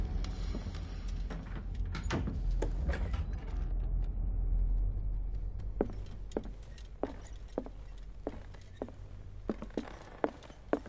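Creaking and clanking mechanisms of a door in the horror video game Call of Cthulhu, set in an old house: a low rumbling bed gives way to a series of sharp, separate creaks and clicks at close range, with no voices.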